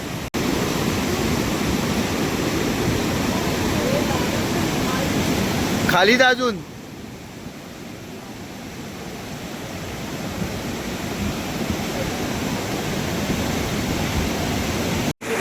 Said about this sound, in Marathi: आणि नदीचा आवाज एवढा आहे की काय विचारून सोय नाही.